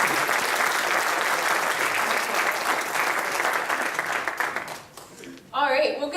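An audience at an evening speaker event at a zoo applauds with sustained, dense clapping that fades out near the end, followed by a brief burst of talk.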